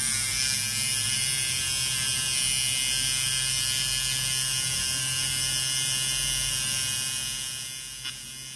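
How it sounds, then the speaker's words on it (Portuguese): Continuous high-pitched electric buzz of a tattoo machine shading black and grey work in small circular movements, steady and close for several seconds before easing slightly near the end. "eu costumo fazer aquele movimento circular, mas a máquina só pega ou na ida ou ela só pega na volta"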